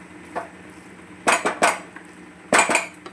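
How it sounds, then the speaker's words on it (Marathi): A spoon stirs vegetable pulao in a metal pot, giving close, sharp clanks and scrapes in two quick clusters separated by quieter pauses. "आता थोडंसं आपण आता याला एकदा हलवून घेऊया। चांगलं मिक्स करायचं।"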